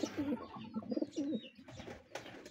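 Breeder pigeons cooing in a loft, several soft, throaty rolling coos close by, followed by faint rustling and light bird noises.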